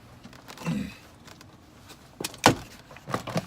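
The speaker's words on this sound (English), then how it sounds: "It's got little clicks right here, little knob things to keep the door on, but I'm pulling it off" Plastic door panel clips popping loose as the trim is pried off the passenger-side door of a 1999 car, heard as a few sharp close-up snaps with soft handling and rustling between them.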